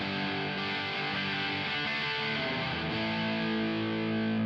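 A distorted electric guitar chord rings through a Marshall JCM1C amp switched to its 0.1-watt low power mode, a dense sustained drone that stays quiet and muffled throughout.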